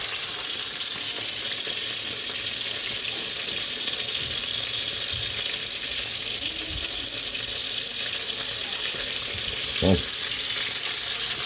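Fish frying in a pan in a home kitchen while pakbet and pork steak are being cooked, giving a steady, dense sizzle throughout with a brief louder clatter near the end and a short spoken word.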